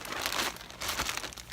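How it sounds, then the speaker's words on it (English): A plastic bag holding socks crinkles close up as it is handled, in two short bursts of rustling within a moment. "I keep both socks in this plastic bag."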